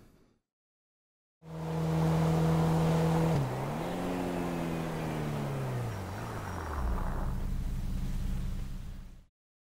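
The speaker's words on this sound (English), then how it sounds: "a driver moves his car to the side of the road" A car pulling over to the side of the road: the engine note rises steadily, shifts and drops as the vehicle slows, then settles into a lower rumble before cutting off abruptly, loud and close throughout.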